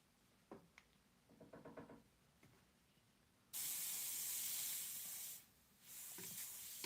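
An airbrush sprays paint in two long hissing bursts, the first running about two seconds and the second shorter, after a few soft clicks and taps, with no talking.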